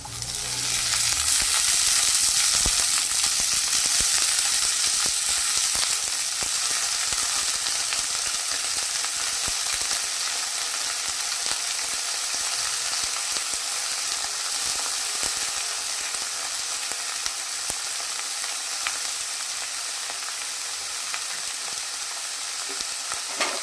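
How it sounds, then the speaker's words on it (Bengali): Radish greens are added to onions in a hot pan and fry with a loud, steady hiss and crackle that eases slightly after the first seconds, with no talking. "পেঁয়াজটা আমার ভাজা হয়ে গেছে এবার আমি মূলো শাকগুলো দিয়ে দিচ্ছি"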